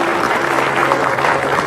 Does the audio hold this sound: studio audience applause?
yes